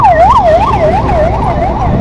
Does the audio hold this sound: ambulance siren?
yes